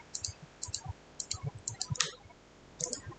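Quick clicks of computer keyboard keys being typed, a soft near series of separate taps with a short pause before a final pair.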